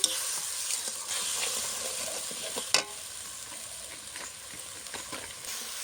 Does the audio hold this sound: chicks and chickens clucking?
no